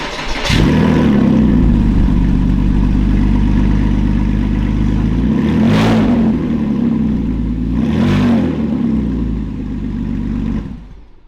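A Porsche Boxster engine with a new exhaust idles with a deep exhaust burble, then revs up sharply twice before shutting off; loud and close, no talking.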